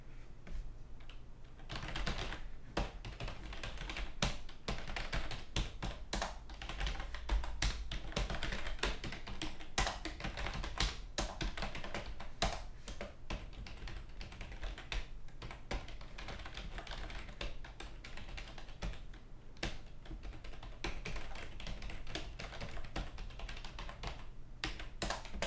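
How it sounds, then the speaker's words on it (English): Typing on a computer keyboard, a long run of quick, uneven key clicks and taps, close and fairly quiet, with no talking. "Now some experiments with keyboard."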